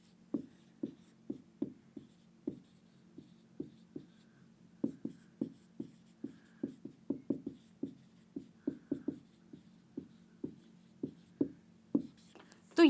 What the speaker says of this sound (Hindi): एग्जाम्पल लिखती हूँ